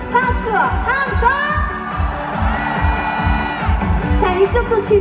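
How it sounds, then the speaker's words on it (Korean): A large outdoor crowd at a Korean azalea festival celebration concert cheers and claps loudly beneath continuing music and amplified singing. "즐거우신 만큼 박수와 함성!"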